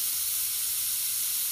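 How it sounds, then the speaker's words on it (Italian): A pressure cooker on the stove, cooking brown rice, gives off a steady, loud hissing whistle of escaping steam that runs unbroken and alone. "questa è la pentola che fischia"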